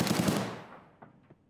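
A burst of rapid gunfire in the shooter game Escape From Tarkov rolls out and fades into echo, followed by two faint, distant shots.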